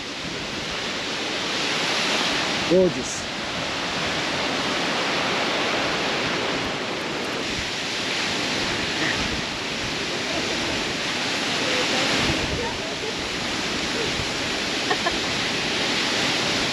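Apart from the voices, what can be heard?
waterfall trickling water at a trailhead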